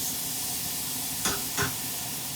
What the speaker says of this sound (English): And I'm just going to add my onions,